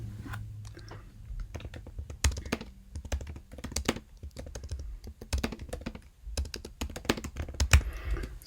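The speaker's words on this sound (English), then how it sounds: "So I typed in a little bit of action right there." Fast, uneven clatter of keys on a computer keyboard while typing a document, close and fairly quiet, with brief pauses between bursts of clicks.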